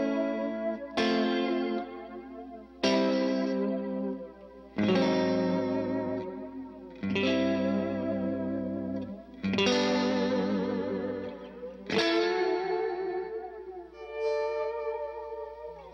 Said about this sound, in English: the third setting is Flerb, which is the flanger with the reverb